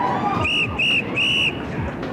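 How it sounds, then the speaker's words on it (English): A lifeguard's whistle on a beach gives three sharp, loud blasts, the last held longest, over a low background murmur. "the lifeguard's coming near his whistle blare"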